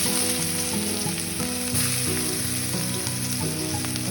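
Sliced onions fry in hot mustard oil in a kadai for a Bengali cabbage dish with fish head, giving a steady, close, dense sizzle with faint stirring throughout.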